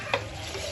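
Karachi biryani mixture is stirred in a pot, one brief scrape of a utensil over a steady soft sizzle, close by and quiet with no voices.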